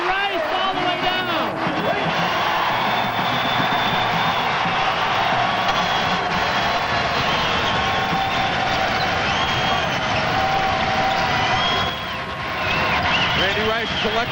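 A college basketball crowd roars and cheers throughout a Salukis versus Redbirds game, a loud sustained swell of voices with whoops, under steady play-by-play commentary.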